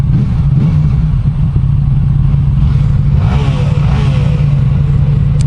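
A Yamaha MT-10 SP sport motorcycle engine drones steadily at high revs, with a few swells as the throttle opens, loud and continuous throughout.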